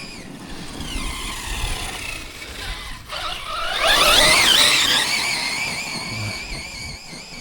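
Team Corally Shiroi 1/8 scale RC truck on Method wheels tearing across a grass field, its motor whining steadily and then surging into a louder, rising high-pitched burst midway before easing back, with no talk.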